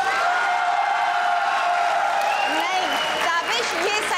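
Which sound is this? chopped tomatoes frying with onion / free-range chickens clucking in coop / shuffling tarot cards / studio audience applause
studio audience applause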